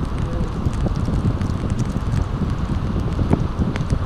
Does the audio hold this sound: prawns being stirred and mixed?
no